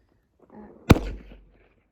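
A single sharp crack from a .22 rifle fired at a shooting range, close and abrupt, with a short low rumble trailing off into quiet.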